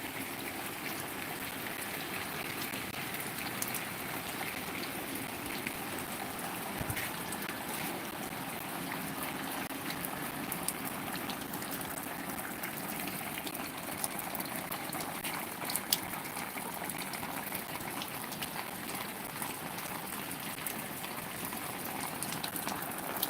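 Water from a motor pump gushes steadily through a line, a continuous rushing, bubbling flow with no pauses, heard alone at moderate loudness for the whole stretch.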